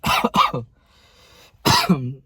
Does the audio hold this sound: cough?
yes